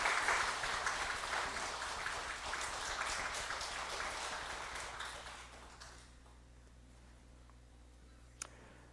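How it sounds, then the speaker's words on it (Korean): A church congregation applauds during a Sunday service, a soft, moderately distant patter of many hands that keeps going for several seconds, then fades into quiet room tone. "제가 성경책과 선물 드릴 때 여러분들 박수로 격려해 주시기 바랍니다."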